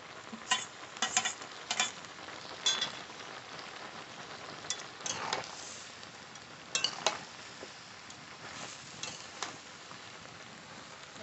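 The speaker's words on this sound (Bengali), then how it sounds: "আস্তে আস্তে খুব সাবধানে নাড়তে হবে।" Winter vegetable ghyat being stirred slowly and carefully in a pan, with soft scraping and sizzling strokes coming in irregular bursts over a steady low cooking hiss, close by and with no voices.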